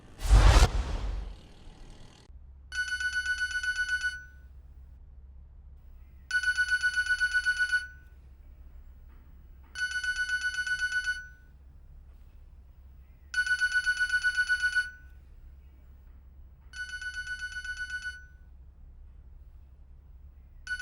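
A telephone rings in repeated electronic bursts of about a second and a half, six rings spaced by short silences, loud and close after a brief opening thump and whoosh, with no talk.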